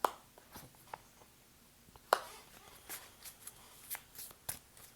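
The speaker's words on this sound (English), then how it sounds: "Let me get the other three cards." Tarot cards drawn from a deck: soft papery slides and snaps, a handful of light card sounds spread over a few seconds, quiet and close with no talking.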